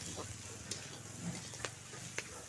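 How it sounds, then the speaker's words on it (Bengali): Green peas frying in a pan for fried rice make a quiet, continuous sizzle punctuated by a few sharp clicks of a spatula, close but faint. "মটরশুঁটিটা দিয়ে আরও 4-5 মিনিটের মতন ভেজে নেব।"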